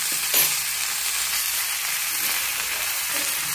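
Ginger-garlic paste and garam masala frying in hot oil for tomato saar, a steady broadband sizzle with light stirring, close and even throughout.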